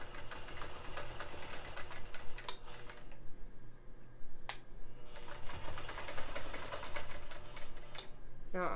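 A longarm quilting machine stitches a quilt with a fast, steady mechanical chatter and clinking, close and continuous apart from a couple of brief pauses.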